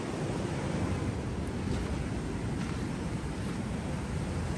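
Ocean surf at a Mazatlan beach, a broad steady rush of breaking waves mixed with wind buffeting the microphone, constant and fairly loud with no voices.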